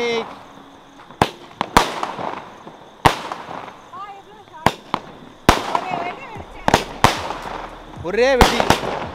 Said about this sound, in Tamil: ஒரே வெடி 120 ஷாட் இந்த அம்மா வச்சாங்களா?